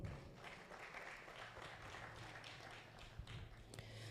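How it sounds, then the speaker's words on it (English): Applause from a conference audience at an Africa conference on service learning, a steady, moderately distant patter of clapping that holds for the whole span with a faint low hum underneath. "Let us give another round of applause."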